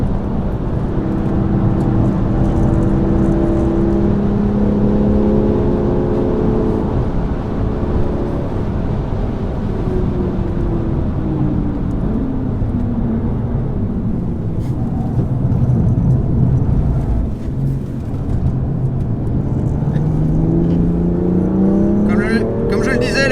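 A 2021 BMW M5 LCI driven fast on a race track gives a steady engine drone and road roar from inside the cabin, its pitch rising and falling through gear changes, while people talk over it.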